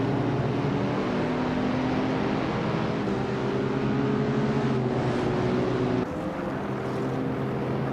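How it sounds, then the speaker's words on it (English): A Falcon XB race car in a racing game gives a continuous, even engine drone with a humming tone that shifts only slightly, heard alone without talk. "Yeah, the Falcon XB really does have that classic roar."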